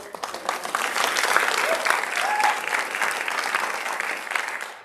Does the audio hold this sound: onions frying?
no